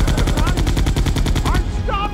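Rapid automatic gunfire from Resident Evil 2 on PlayStation rattles in a loud, fast, even burst of shots for about a second and a half, then stops as game sounds continue.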